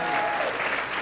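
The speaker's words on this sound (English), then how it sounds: "let's hear a big round of applause for all these semifinalists for doing a great job tonight" An audience at a ballroom dance competition gives dense, sustained applause for the semifinalist couples, a brief burst of clapping over a crowd with no gaps.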